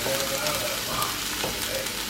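A vegan nut roast mixture of chopped vegetables sizzles and fries steadily in a pan, a continuous close crackle with faint stirring and no talk.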